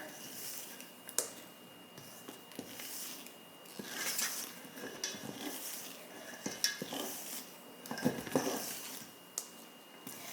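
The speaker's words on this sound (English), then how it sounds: "Clean off my spatula here" A spatula scraped against a mixing bowl holding macaron batter, a series of close scrapes and clinks at uneven intervals over quiet background.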